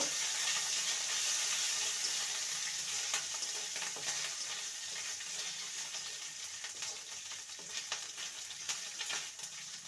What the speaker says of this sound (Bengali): আদাটাকে ভালো করে ভেজে নিয়েছি